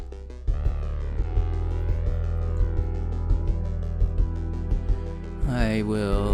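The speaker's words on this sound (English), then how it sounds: "But I'll turn on the reverb and the delay so you get the full mix of it." Looping synthesizer bass notes pulse steadily with rhythmic thumps, washed in echoing reverb and delay, swelling into a brighter sweep near the end.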